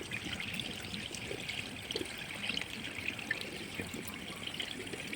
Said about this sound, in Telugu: ఈ విధంగా బాగా వేయిన తర్వాత అన్నిటినీ వాటర్లో బాగా వాష్ చేసుకోవాలి.